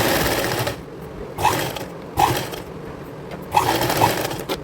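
A sewing machine stitches the neckline of a girls' cord set, a steady close whirr of running stitches with a few louder surges as the fabric is turned and fed.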